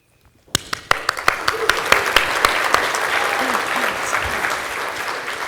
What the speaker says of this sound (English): I think we're almost done with the clapping.